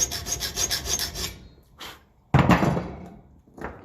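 Hand filing to deepen a slot in a metal throttle valve part for a 1954 Ferguson tractor diesel, a quick run of rhythmic rasping strokes, then a pause, a single longer loud rasp and a last short stroke, close up.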